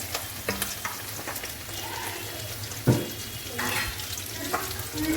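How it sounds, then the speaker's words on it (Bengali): Spinach and fish curry broth bubbling in a pan, a steady close simmer with stirring clatter and a few sharper knocks, no talk. "দেখুন তরকারিটা কেমন ফুটে গেছে"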